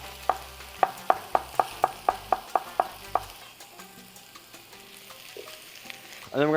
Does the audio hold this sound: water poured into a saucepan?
no